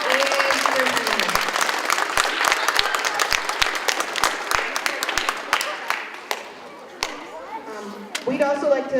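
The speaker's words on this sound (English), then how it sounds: "big round of applause for your teachers, principal, and superintendent" Applause at a school DARE graduation for the teachers, principal and superintendent: scattered sharp claps close by over a crowd clapping, thinning out toward the end as voices return.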